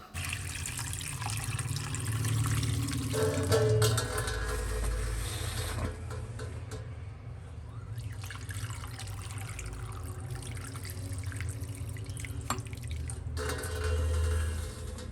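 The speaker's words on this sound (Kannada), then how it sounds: "ಸೊ ಇದಕ್ಕೆ ನಾವು ಇವಾಗ ನೀರು ತುಂಬಿಸ್ಕೊಳ್ಳೋಣ" Water pours steadily from a tap into boxes holding fish, a continuous gushing trickle with a few drips, close and fairly loud with no talking.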